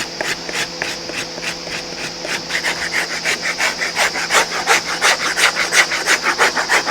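A hand rasp files the front part of a shoe sole, its steady back-and-forth strokes close and loud, quickening into a dense rhythmic scraping.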